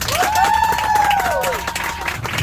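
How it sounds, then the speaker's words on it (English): An audience breaks into applause and cheering, dense clapping with a rising whoop over it, lasting a couple of seconds. "Round of applause for Margaret."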